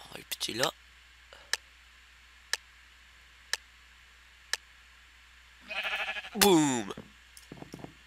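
Sheep bleats from a video game, a wavering bleat near the end after sparse sharp ticks, with brief game sounds and a short burst at the start.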